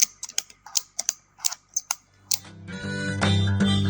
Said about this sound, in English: Now that I've got all my ratchet straps all over on each side, I can start pulling them in.